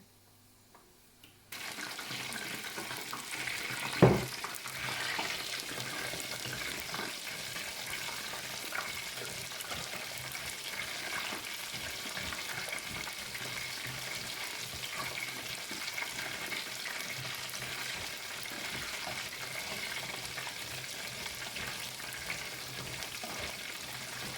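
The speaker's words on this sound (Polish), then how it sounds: "delikatnie pomieszać, żeby nie kleić na siebie, nie?" Oyster mushrooms frying in a pan for crispy chip-like pieces, a steady low sizzle with gentle stirring throughout and one sharp clack near the start, no voices.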